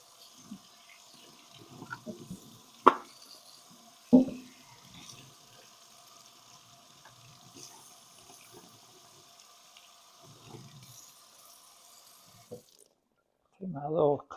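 Warm water runs from a kitchen tap while a Brita water pitcher is cleaned, a faint steady stream with a few clunks and knocks of handling, stopping near the end before a brief bit of speech.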